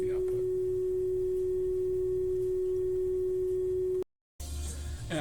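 A steady test tone plays through a TEAC A-3340S reel-to-reel recorder during calibration, a single pure pitch held for about four seconds before cutting out briefly, then a short stretch of noise.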